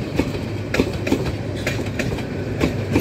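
A Tista Express passenger train rolls along the rails with a steady rumble and rhythmic clickety-clack wheel beats, loud and close throughout.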